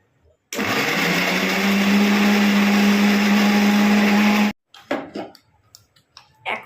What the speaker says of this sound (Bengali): আমি কিন্তু এই মিক্সির জারের মধ্যেই একেবারে এই জিরে গুঁড়োটা দিয়ে দিলাম, তাহলে পেস্ট হয়ে যাবে।